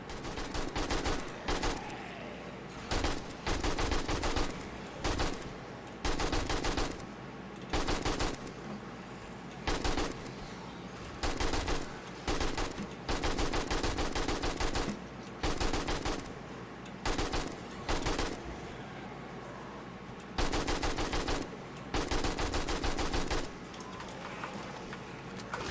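AK rifle in 7 Days to Die firing repeated loud bursts of automatic gunfire, each a second or two long and separated by brief pauses, close and dominant with no talking.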